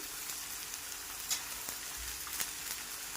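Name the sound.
sautéing capsicum, green chili and ginger-garlic paste in pan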